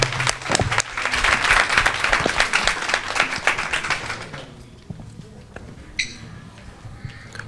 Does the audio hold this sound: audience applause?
yes